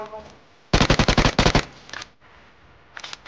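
Rapid gunfire in PUBG Mobile: a loud close burst of about ten shots from roughly 0.7 to 1.6 s, then a few fainter scattered shots, with game ambience between bursts.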